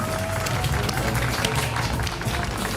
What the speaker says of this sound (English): Let's all clap our hands for University of Baguio's Keenth Joshua Malaga.